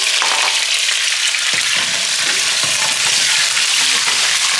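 Food frying in a cup of hot oil in a home kitchen, a loud steady sizzle with crackling pops throughout, no talking.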